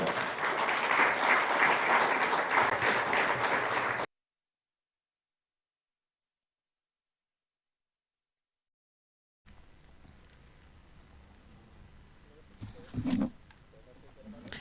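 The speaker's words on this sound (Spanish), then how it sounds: "recibámosle con un fuerte aplauso al expositor" Applause from a church congregation at a united service welcoming a speaker, dense clapping for several seconds, then a long silence, followed by a quieter room with a brief louder burst.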